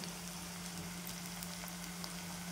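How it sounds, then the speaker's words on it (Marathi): Fenugreek leaves and chopped green onion sauté in a pan with a soft, even sizzle, faint and continuous, with no voices. "हे छान परतून घ्यायचं। आता आपण मेथी टाकून घेऊ।"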